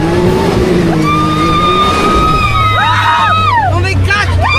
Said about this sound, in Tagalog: First time ko guys mag-drive sa jungle.